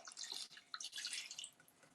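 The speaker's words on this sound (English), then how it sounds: "now we've got the 300 grams of water. I'm just going to pop it in there like that." Water being poured into a sourdough starter mix in a home kitchen, a close, steady splashing trickle lasting about two seconds with a brief break midway.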